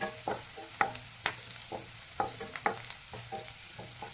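Ginger tossed into a hot pan for egg burji sizzles quietly while a spatula scrapes and stirs in a steady run of short clicks and scrapes, close and fairly soft, with no talking.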